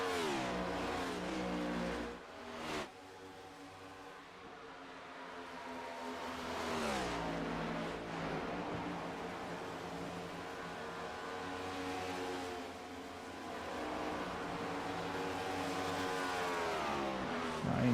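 Race cars roar along a track late in a race, engines revving hard and rising and falling in pitch as they pass, loud and continuous with no voices over them.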